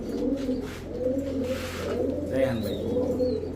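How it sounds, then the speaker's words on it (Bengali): Green-necked high-flyer pigeons cooing in a loud, rolling, repeated throaty coo close by, with a hum underneath and brief higher chirps, as someone talks over the birds. "এগুলো হচ্ছে গরম ব্লাড লাইনের সবুজ গলা কবুতর"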